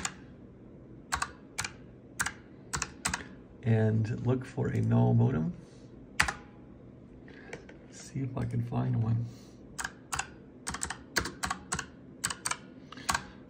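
Typing on a computer keyboard comes in short bursts of clicking keys close by, broken by someone speaking quietly in between.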